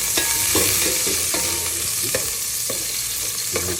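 Garlic and ginger frying in a cooking pan for Filipino adobo, with a steady close sizzle broken by several sharp stirring scrapes spaced through the sound.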